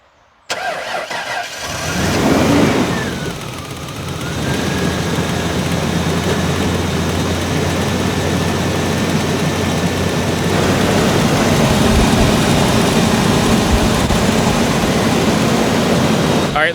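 A Ford Ranger pickup left abandoned for years, its starter relay jumped with two wires, cranks briefly, catches and fires up, then settles into a steady, close idle that holds to the end.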